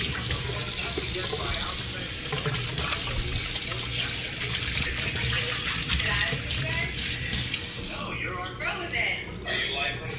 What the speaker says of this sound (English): you gotta wash your hands in between stuff